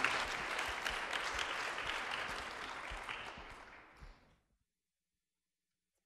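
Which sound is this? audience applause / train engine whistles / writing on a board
audience applause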